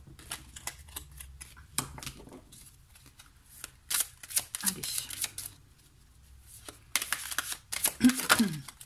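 Tarot cards are shuffled and drawn in irregular bursts of riffling, flicking and slapping, close and fairly soft, with someone speaking French between and over the card handling.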